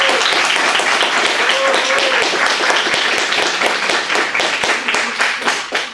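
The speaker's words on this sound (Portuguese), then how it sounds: "uma salva de palmas" An audience at a math café lecture claps together in steady, dense applause, loud and close, that holds for several seconds and then thins and fades toward the end.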